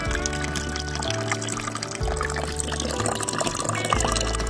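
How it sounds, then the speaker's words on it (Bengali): Water is poured steadily into a vessel at home, a continuous gurgling fill with a few short pauses and restarts, close and moderately loud. "এই ঠাকুরের জল ভরে রেখে দিচ্ছি।"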